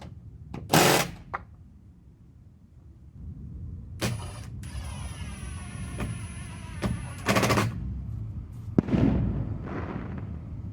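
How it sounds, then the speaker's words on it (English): Backyard fireworks go off outdoors near a newly hung gate, with scattered loud bangs and crackles at moderate distance over steady outdoor background noise, plus a brief whistling tone in the middle. "Right when I finish, they shoot off fireworks for me."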